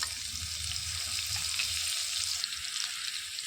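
Curry leaves and finely chopped chilies fry in oil for a rajma curry, making an even, continuous hiss of sizzling with a faint low rumble beneath and no voices.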